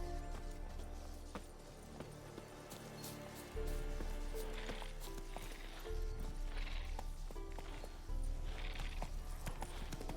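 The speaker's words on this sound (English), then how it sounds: "Bloody fine mount. Good stance, powerful rub, stable withers." A horse in the video game The Witcher 3 makes steady clip-clop hoofbeats over a continuous rumbling ambience, with faint whinny-like sounds in the background and no talking.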